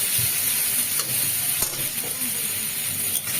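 Chopped onion frying in oil in a pan, a close, dense hiss of sizzling that runs unbroken throughout with faint stirring scrapes.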